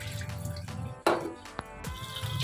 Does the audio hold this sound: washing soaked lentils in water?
yes